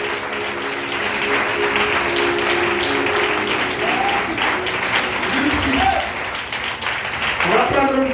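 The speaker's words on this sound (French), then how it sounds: "Acclamez pour vous ce matin" A church congregation applauds in a sustained burst of clapping that runs the whole stretch, with voices calling out and talking over the applause.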